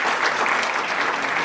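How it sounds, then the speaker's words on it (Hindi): Loud, steady applause from an audience at an International Women's Day celebration at a diocese in Jaipur, a dense wash of clapping with no gaps. "प्लीज जोरदार तालियों से स्वागत करिएगा।"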